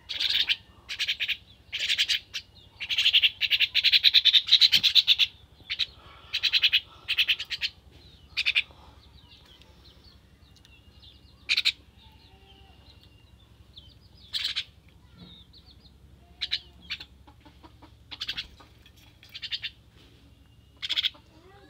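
Common mynas chirping close by, a bright burst of dense calls at first, then scattered single chirps and short phrases with quiet gaps between them, no talking.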